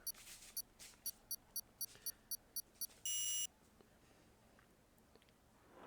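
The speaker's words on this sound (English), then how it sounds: "I can hear a little beeping." Short electronic beeps sound in a regular sequence of about nine evenly spaced pips, then a longer sustained tone, counting down a motor race start in Singapore, clear and moderately loud over quiet track ambience.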